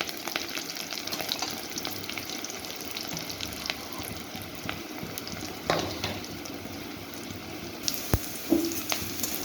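Ingredients being stirred and fried in a pan for a dish of fish roe with spiny gourd (kakrol), heard as a steady close sizzle with bubbling undertones and occasional spatula knocks and scrapes, no voices.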